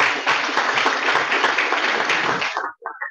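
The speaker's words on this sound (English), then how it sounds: "let's give them a big round of applause for the wedding anniversary" A Rotary Club meeting gives a room-filling round of applause for members' wedding anniversaries, many hands clapping steadily for over two seconds before it fades out and a voice begins.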